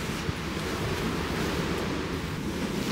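Constant wind roars and rumbles against the microphone in the Faroe Islands, a dense unbroken wash of noise with no talking.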